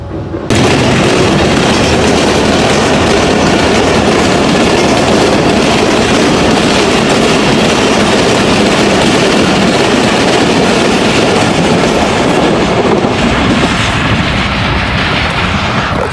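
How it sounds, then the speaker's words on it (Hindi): A train passes a railway level crossing with a loud, continuous rumble and rattle of cars close by, sustained throughout without letting up, no voices heard over it. "ट्रेन गुजर गई है"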